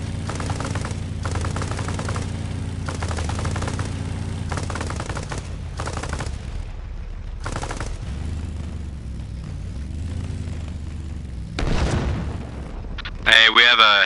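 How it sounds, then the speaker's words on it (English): A heavy tank shelling and bursts of gunfire in the ARMA Reforger video game, dense rapid firing with heavy booms, ending in a louder crack near the end, with voices talking over the din. "we have a heavy tank firing directly at us from the south"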